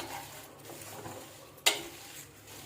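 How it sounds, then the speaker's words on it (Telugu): Sesame seeds stirred while dry-roasting in a pan for idli podi, a soft, continuous scraping sizzle with one sharp clink of the spoon against the pan. "నువ్వులు కూడా వేసిన తర్వాత బాగా కలుపుతూ ఉంటే చక్కగా అవి కూడా వేగుతాయి."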